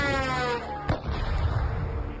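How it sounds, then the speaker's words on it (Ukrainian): An explosion in Russia, from news footage. A single sharp blast cracks out over a continuous heavy roar of burning and rumbling, loud and close. "на Росії знову активно вибухає і палає"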